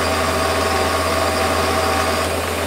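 Metal lathe turning aluminium with a fresh carbide-tipped tool at about 1100 to 1150 RPM, giving a loud, steady motor whine and hum that continues unbroken throughout.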